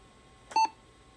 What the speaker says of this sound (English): Quiet beep.